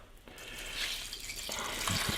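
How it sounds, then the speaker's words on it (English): Cold water pours into a saucepan, a quiet splashing trickle that builds as the pan fills, close by, with no talking over it. "in the saucepan, I'm going to add 2 1/4 cup of cold water"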